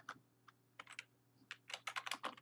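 Keys clatter on a computer keyboard while a Minecraft game version is typed in, with sparse taps first and then a quick burst of keystrokes, close and fairly quiet over a low steady hum.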